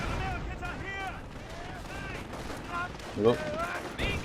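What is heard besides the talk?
machine gun fire in Company of Heroes video game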